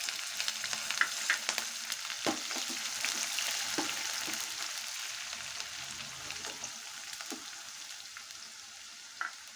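A tempering of curry leaves, onions and green chillies frying in oil makes a soft, continuous sizzle with occasional sharper spits and stirring clicks, moderately quiet and without voices.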